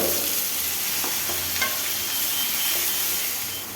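Chopped onions hiss and sizzle steadily in hot oil already seasoned with whole cumin and whole spices, with occasional soft scrapes of stirring over the continuous frying noise.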